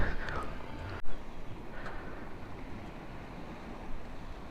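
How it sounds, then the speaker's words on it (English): Water laps gently under steady outdoor wind noise near a seaside spot, a soft continuous wash with one brief knock from handling. "Gentle sounds of the water lapping, seagull bobbing in the waves"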